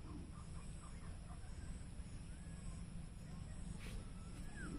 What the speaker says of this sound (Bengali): বিভিন্ন পাখির আওয়াজ পাচ্ছি